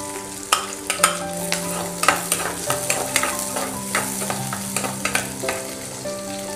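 Onions, chillies and curry leaves sizzle steadily in a pan for adai upma, with a spoon repeatedly stirring and tapping against the metal, loud and close throughout, no voices.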